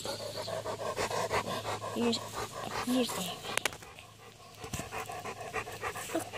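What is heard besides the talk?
small dog panting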